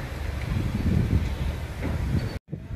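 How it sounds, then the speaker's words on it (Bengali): A train at Araku railway station gives a steady, fairly loud rumble with faint rattling, then cuts off abruptly near the end. "Araku railway station."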